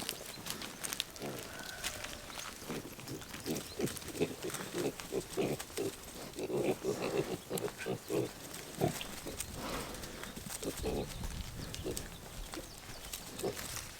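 Piglets grunting and squealing in short bursts, with scattered snorts and some shuffling, fairly close.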